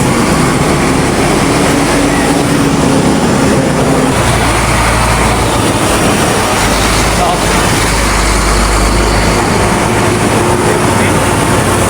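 A large truck on a road during a roadside walk past bypass construction, rumbling as steady loud low traffic noise close behind for the whole stretch, with wind and ambient road sound.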